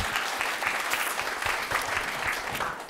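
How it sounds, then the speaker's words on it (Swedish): A seminar audience gives warm applause, dense continuous clapping from a room full of people at moderate distance, lasting throughout. "En varm applåd för Dawn"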